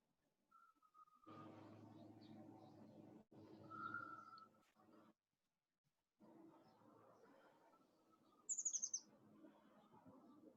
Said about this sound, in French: j'ai entendu un petit oiseau